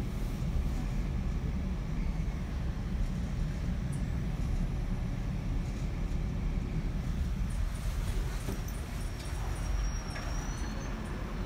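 Steady low rumble inside a moving GO Train passenger train in Canada, continuous and even throughout, with a faint high squeal near the end.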